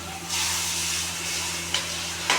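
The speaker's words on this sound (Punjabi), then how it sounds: "ਥੋੜਾ ਜਿਹਾ ਗਰਮ ਪਾਣੀ ਐਡ ਕਰਨਾ" Hot water hits a sizzling tempering for soya chunk curry, giving a steady close hiss of steam and frying that runs nearly the whole moment, with a couple of faint clinks.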